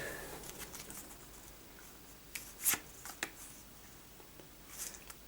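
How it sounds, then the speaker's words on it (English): Quiet, close riffle-and-tap of cardboard cards being shuffled for the DungeonQuest board game, a few short sliding bursts with brief pauses between, no talking. "just going to shuffle all these around"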